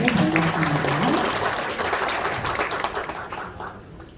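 An audience at a Korean National Assembly forum on carbon neutrality applauds to welcome a lawmaker, a full burst of clapping that gradually thins and fades toward the end.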